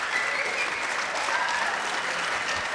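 A squash crowd erupts in loud, sustained cheering and applause after a drop shot and a no-let call, a dense wall of clapping and shouting that holds steady for the whole stretch.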